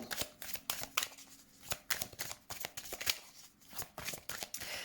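Tarot cards are shuffled and drawn in a quiet room, with rapid crisp riffling and snapping flicks repeating in uneven bursts, close and fairly soft.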